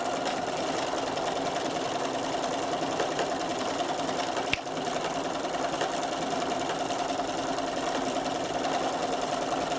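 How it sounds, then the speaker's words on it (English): A sewing machine stitches embroidery onto a fabric postcard with a steady, even mechanical whir that runs without a break, interrupted only by a single sharp click midway. "I will carry on and finish sewing down here"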